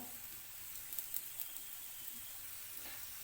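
Onion coin paratha fries in oil on a pan, giving a faint, steady sizzle and hiss with a few soft crackling pops.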